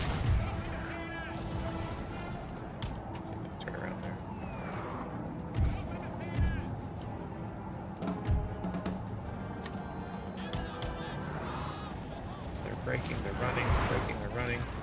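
Booming cannon shots in Total War: Napoleon go off one at a time at irregular intervals, heavy and close, over a busy battle din of gunfire and cavalry hoofbeats, with voices talking.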